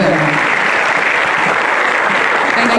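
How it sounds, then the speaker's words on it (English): An audience at a business school's management day celebration claps in sustained, dense applause that stays loud and even throughout, with no voices standing out. "applause for them."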